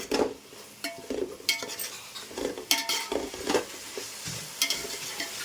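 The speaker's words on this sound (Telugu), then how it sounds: "టమోటాస్ ఈ అల్లం వెల్లుల్లి పేస్ట్ అనేది బాగా నూనెలో మగ్గనివ్వాలి" Tomatoes and ginger-garlic paste cook in oil for egg pulao, a soft sizzle broken by frequent close clinks and scrapes of a metal spoon stirring against the pan.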